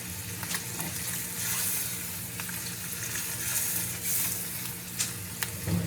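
Onions frying in a pan make a steady, soft sizzle with faint crackles and occasional stirring clicks, close but fairly quiet, with no talking.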